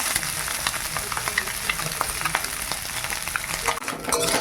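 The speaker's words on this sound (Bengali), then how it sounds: "এই মাছগুলো ভাজা হয়ে গেছে তুলে নে" Small chuno fish fry in hot oil in a pan, giving a steady, close, dense sizzle that crackles throughout with occasional scrapes of stirring.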